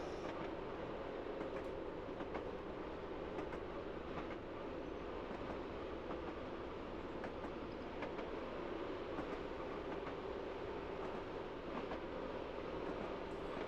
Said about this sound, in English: apparently the train didn't want to slow down for me on that downhill